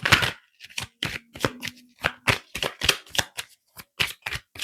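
Oracle cards shuffle close and crisp in quick, irregular bursts of riffling snaps and slaps, separated by short pauses.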